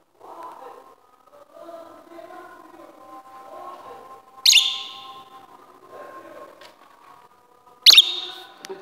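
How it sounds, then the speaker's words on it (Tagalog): Pet parrot at home calling: soft warbling, whistled phrases throughout, punctuated by two sharp, loud high-pitched shrieks close to the listener. "Yun ang ibon ng alaga namin."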